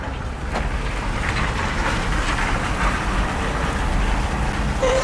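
Steady rain hisses loudly and continuously outdoors on a work site, a dense, even wash of noise with no voices.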